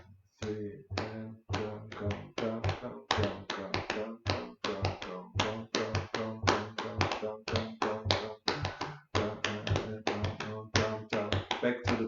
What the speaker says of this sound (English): I clap it for you in the normal thing